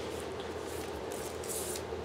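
Short hissing bursts of cleaner sprayed onto household fan blades, fairly close and quiet, with no talking.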